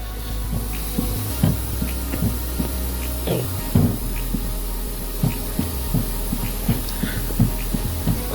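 A vacuum bleeder hums steadily while drawing fluid from a car clutch line, with irregular soft throbbing pulses and gurgles breaking through the continuous drone.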